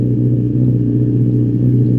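A Fiido electric scooter sound system plays a simulated engine, a steady, loud, low rumbling idle that drones on evenly throughout with no talking.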